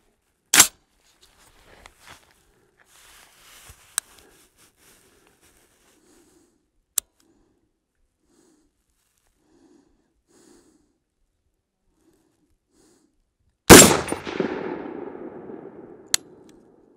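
Two loud rifle shots from an ADM UIC-10A rifle on a range, one near the start and a louder one later with a long rolling echo, separated by quiet stretches with faint clicks and handling noises.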